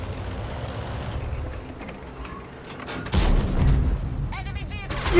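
Tank cannon fire in World of Tanks: a rumbling engine-and-battle bed, then one heavy, loud boom partway through with a long low roar after it.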